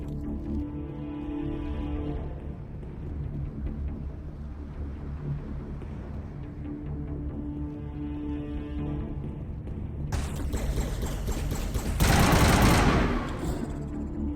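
Weapons fire during a firefight in Mass Effect: Legendary Edition, with rapid bursts of shots over a steady bed of game music and ambience, swelling into a louder, harsher barrage near the end.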